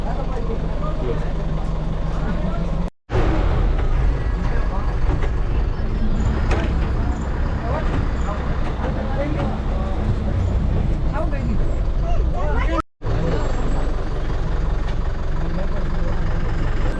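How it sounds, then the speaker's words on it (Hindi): A jungle safari bus engine drones continuously during a ride through Sakkar Baug Zoological Park in Junagadh, a steady low rumble with rattles heard under ongoing talk. "तो भी एंजॉय करते हैं इस जंगल सफारी बस राइड का"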